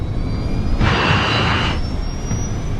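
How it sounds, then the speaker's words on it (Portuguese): Dramatized DC-8 jet airliner accelerating down a snowy runway for takeoff, a loud steady jet engine roar swelling in the middle and easing off, with a low rumble throughout. "o DC-8 acelera até a velocidade de decolagem"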